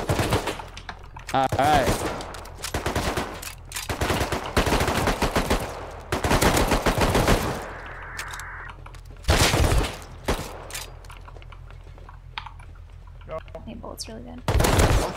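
Gunfire in the video game Rust: repeated bursts of loud shots separated by quieter gaps over about fifteen seconds, with people talking in between.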